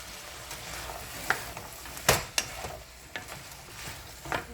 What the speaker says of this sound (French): À présent, je vais verser l'oignon.